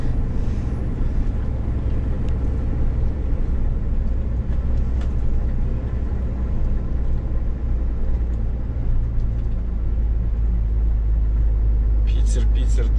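A heavy truck engine labours uphill on a hilly road in Bashkiria, a deep steady rumble and drone filling the cab throughout, with a brief rattle near the end.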